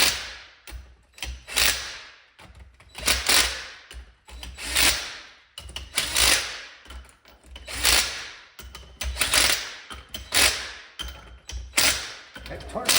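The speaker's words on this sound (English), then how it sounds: "All I'm doing is drawing the ring gear up and snugging the bolts down." Bolts on a Dana 44 differential ring gear being run down and snugged with a wrench, heard as repeated rhythmic ratcheting bursts in a steady cycle, with brief pauses between strokes and no speech over it.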